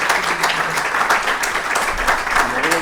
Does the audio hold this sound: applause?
yes